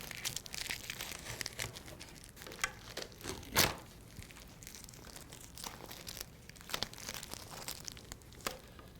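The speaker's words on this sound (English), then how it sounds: "we're going to remove our tape and spreader plates and see how our repair came out" Tape and spreader plates peel off a repaired Hartzell carbon composite propeller blade, giving faint, scattered crinkling and tearing rustles with one louder rip partway through.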